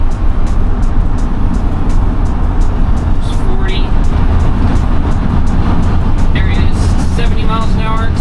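Chevrolet BrightDrop 400 Standard Range front-wheel-drive electric van gently accelerating on a highway toward 70 mph, a steady loud road and tyre roar filling the cabin throughout, with a person talking over it.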